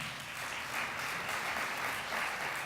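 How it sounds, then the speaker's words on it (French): An audience at a book award ceremony claps steadily and fairly quietly, a dense even patter of applause with no voices on top, continuing throughout. "alors ça s'applaudit encore plus"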